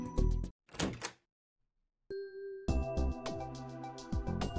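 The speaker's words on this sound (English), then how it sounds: "after a heavy knock, the door to the booth flung open" In the visual novel game Steins;Gate 0, a heavy knock thuds at a booth door, followed by a pause and then the clattering bang of the door being flung open, with jingling tones over it.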